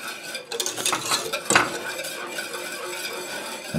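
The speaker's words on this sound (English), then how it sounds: "Now this just gets stirred until it thickens" Egg gravy being stirred in a pan with a utensil as it thickens, giving soft repeated scraping and clinking against the metal, close up, with no talk.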